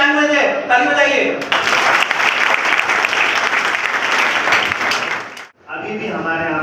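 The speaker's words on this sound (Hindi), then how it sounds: "ताली बजाइए।" A burst of enthusiastic crowd applause lasting several seconds, with a person speaking briefly before and after it.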